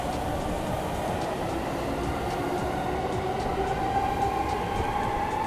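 A Sendai City Subway Namboku Line train rumbles steadily along the rails, with a low continuous roar, faint rhythmic clicks and a rising whine.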